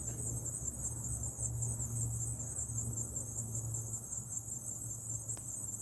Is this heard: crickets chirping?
yes